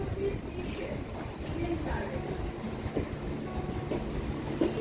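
A local train rumbles past with a continuous low roar and faint rail clatter, heard from a platform at a Kolkata station with indistinct voices mixed in.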